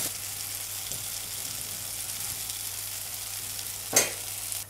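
Keto okara pancakes frying in a pan until crispy: a soft, even sizzle held close and steady, with one brief louder crackle near the end.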